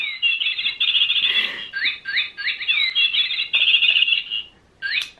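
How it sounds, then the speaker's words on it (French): A small decorative garden bird ornament with a motion sensor chirps loudly and up close, giving a run of synthetic warbling tweets and trills that trail off, then one short final chirp. "quand on passe devant ça fait gazouiller le petit oiseau"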